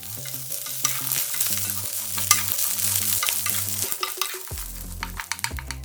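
Pink sausage and garlic scapes stir-fry in a hot pan, a close steady sizzle with repeated scraping stirs and utensil clinks, no voices.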